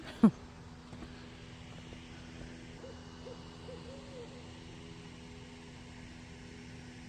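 After a brief knock at the start, an owl hoots several times faintly in the distance against a quiet, humming background, near Lake Tawakoni State Park.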